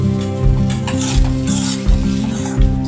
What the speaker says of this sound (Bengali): আদা, জিরে, লঙ্কা দিয়ে সব দিয়ে ডালটাকে নাড়ছে পুরো ঝুড়ো ঝুড়ো করে